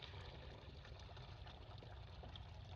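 Liquid pours into an IBC tote biodigester container, a quiet, continuous trickling and splashing flow that stays faint and steady throughout.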